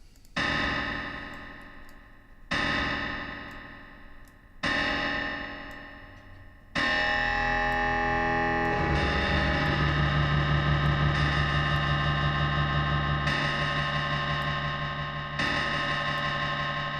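Plate or chamber reverb with pre-delay on a plugin in development, heard first as three sharp struck hits with decaying tails, then a sustained, dense washed-out tone that rings on with pulsing repeats.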